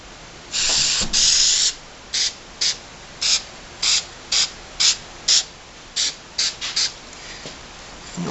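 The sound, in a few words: spray paint being sprayed onto a drink container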